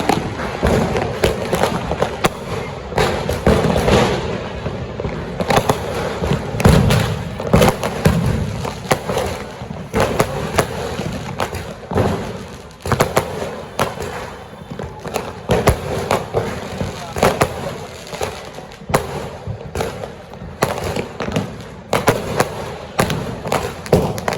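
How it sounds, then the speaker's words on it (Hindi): Diwali firecrackers bursting in a rapid, irregular barrage, sharp loud cracks and thumps overlapping continuously, with faint voices in the background. "देखो क्या बम का आवाज़ है, हम भी जा रहे हैं बम फोड़ने के लिए"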